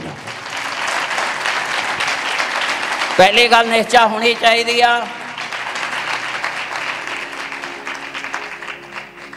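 Congregation at a church sermon meeting in Beas Pind clapping loudly, sustained crowd applause running the whole clip while someone speaks briefly over it in the middle.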